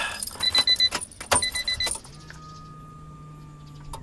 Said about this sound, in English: Fire it up. Okay. Give it at least a few cranks.